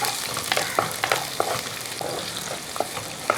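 Garlic, ginger and green chillies fry in a pan while a spoon stirs them, giving a steady close sizzle broken by sharp scraping clicks roughly every half second, with no voices.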